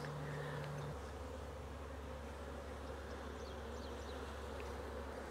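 Carniolan honey bees, a darker strain, buzz steadily around hive frames during a transfer from nucs into full-size equipment, a dense continuous hum with scattered nearby wingbeats and no talking.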